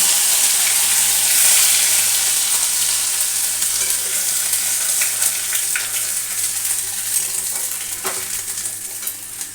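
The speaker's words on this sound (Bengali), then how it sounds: "এই যে ফোড়নে দিয়ে দিচ্ছি হচ্ছে এখানে রয়েছে মেথি সর্ষে আর রাঁধুনি" Fenugreek, mustard seeds, radhuni and grated ginger dropped into hot oil for a Bengali shukto, giving a loud, close, continuous sizzle that slowly eases off, with occasional stirring clicks and no talking.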